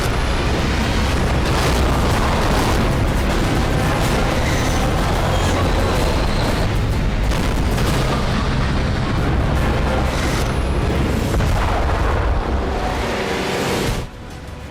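Artillery shelling in the Nagorno-Karabakh war rumbles in a loud, dense, continuous roar of blasts and booms that fades sharply near the end.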